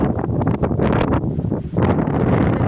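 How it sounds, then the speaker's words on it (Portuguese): Strong wind buffets an outdoor microphone with continuous loud rumbling gusts, swelling and easing over a few seconds without a break. "o vento está forte aqui"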